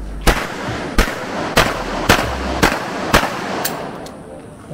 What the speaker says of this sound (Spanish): vamos a hacer una serie de 9 disparos